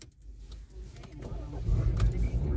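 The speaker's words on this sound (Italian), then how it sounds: "Accendiamo il motore." A 2017 Citroen Berlingo engine turns over and catches, settling into a low, steady idle rumble that grows louder over a couple of seconds, heard close up with no talking.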